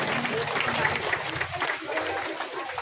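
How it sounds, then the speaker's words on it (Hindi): Young audience members at a class clapping for themselves in a hall, a dense continuous round of applause mixed with crowd murmur and voices, fairly loud and close throughout. "चलिए, अपने लिए ताली बजाइए युवाओं।"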